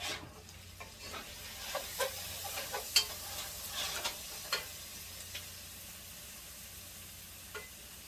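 Cajun red beans cooking in a pot give off a faint, soft sizzle with scattered light stirring clicks and taps, quiet and intermittent throughout.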